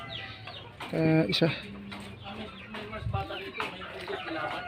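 Chickens clucking close by, several short rising calls and squawks scattered over a few seconds while a person speaks alongside them.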